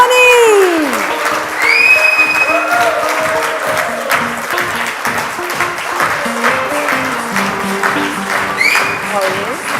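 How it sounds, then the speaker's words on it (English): A large audience applauds and cheers as MS Dhoni is welcomed onstage at a live interview event, a loud continuous crowd roar with clapping, while a host's voice and musical tones sound over it. "So please welcome him with a huge round of applause."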